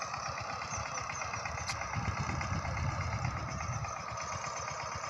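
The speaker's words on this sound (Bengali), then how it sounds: "ওই যে পাওয়ার টিলার দিয়ে কেটে করা হচ্ছে।" A power tiller engine runs steadily in a farm field, a continuous low mechanical drone with a rough chugging texture, heard at moderate distance and fairly faint, with no voices.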